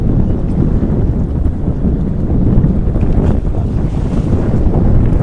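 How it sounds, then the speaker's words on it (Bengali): Strong wind roars steadily across a fishing boat at sea during a hilsa outing, a loud, continuous buffeting rush with low rumbling gusts and possible water noise, no voices. "আর প্রচন্ড বাতাস বইছে"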